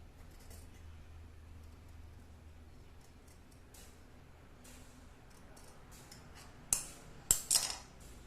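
Scissors cut a blouse sleeve from fabric: after a quiet stretch, a few sharp metallic snips come near the end, close and distinct, with no voices.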